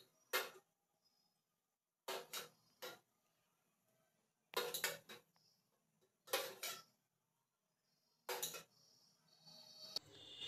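Dishes and cutlery clatter as white vermicelli is poured into another pot in a home kitchen, in five short clinking bursts separated by quiet gaps, near and moderately loud.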